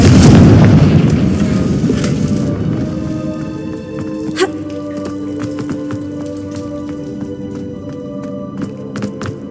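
A Confringo fire spell explodes in Hogwarts Legacy with a loud blast at the start, then fades into a long rumbling tail scattered with crackles and debris ticks over several seconds.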